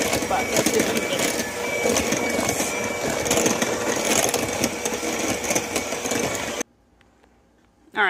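An electric mixer beats butter into sweet potato pie filling, a loud steady whir with scraping texture running for several seconds before cutting off abruptly into near silence.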